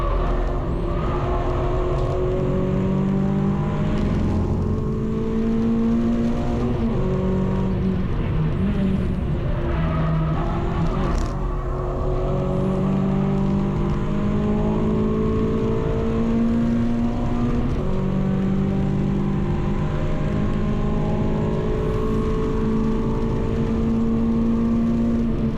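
A car lapping the Donington Park Grand Prix circuit at a trackday, its engine droning loud and continuous inside the cockpit, pitch rising through the gears and falling again under braking.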